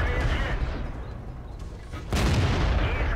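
A World of Tanks battle carries a heavy, booming shot about two seconds in, a sudden low blast that rolls on with rumbling noise after a stretch of muffled battlefield ambience.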